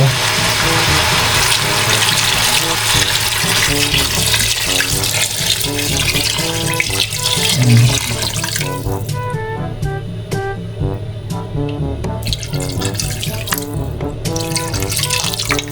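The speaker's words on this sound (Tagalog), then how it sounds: "Lalagyan ko na rin po ito ng sabaw." Broth pours into a pot of pork leg sinigang as a loud, continuous splashing stream that breaks into scattered drips and trickles toward the end.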